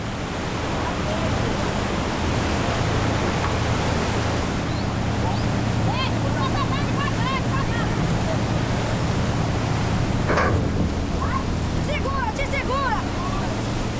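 Passenger ferry on a Brazilian river, its propeller churning water below, heard as a constant loud wash of water and engine rumble with wind noise, while faint chirping or squeaks rise briefly over the roar.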